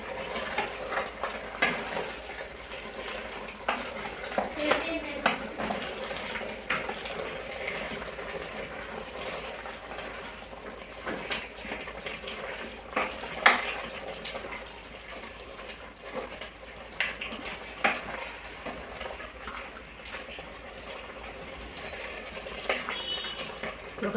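Gongura leaves being stirred into mutton curry in a pan, a continuous wet sizzle with scraping and clinking spoon strokes, close and fairly loud throughout.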